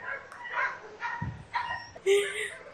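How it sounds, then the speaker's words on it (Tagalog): Several sharp dog barks sound at intervals in Nepal, fairly close, alongside some talking. "tumatahol yung mga aso ba?"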